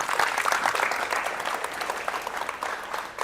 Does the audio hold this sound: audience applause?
yes